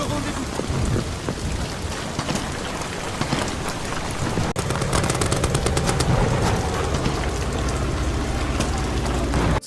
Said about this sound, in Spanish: como explosiones o disparos de ametralladoras